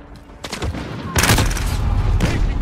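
Gunfire in a video game, a close burst of several rapid shots followed by heavier, louder bursts that ring out over a continuous rumble of background battle noise.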